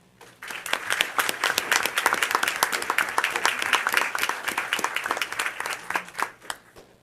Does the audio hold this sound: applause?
yes